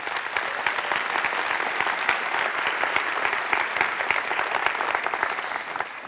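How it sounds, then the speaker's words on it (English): A conference crowd applauds a team at a tech keynote general session, a sustained, even roar of many hands clapping at moderate loudness, without a break from start to end. "Let's have a round of applause for these guys"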